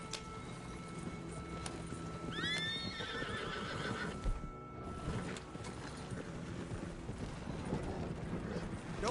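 A horse in Red Dead Redemption 2 gives a clear rising whinny midway through, set against a steady, busy bed of hoofbeats and outdoor ambience at moderate loudness.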